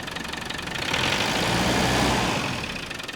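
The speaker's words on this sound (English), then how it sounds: "And the engine runs great." A 1995 Land Rover Defender 90 with the 300Tdi diesel engine running steadily close by, a continuous mid-pitched engine drone that swells slightly in the middle, with no talking.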